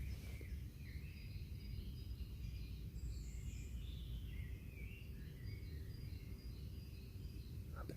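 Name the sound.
birds chirping at dawn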